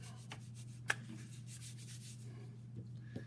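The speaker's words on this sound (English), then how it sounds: "I usually give it a little hand rub first, kind of get a little bit of heat into it." A hand rubbing across waxy patty paper laid over polymer clay, a faint, steady, close swishing friction with a couple of small taps, over a low constant hum.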